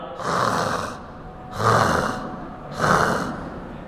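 A voice imitates snoring with three drawn-out, rasping inhaled snores in a slow steady rhythm, close and fairly loud.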